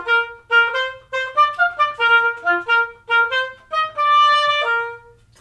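An oboe plays the first half of Pop Goes the Weasel in triple meter, a clear, reedy solo line of short lively notes ending on a held tone, close and alone.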